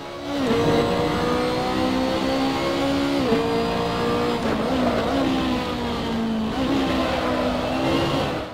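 A race car on super soft tyres in an online racing video game, engine loud and close as it revs up through the gears, drops on shifts and downshifts into corners, with no talk.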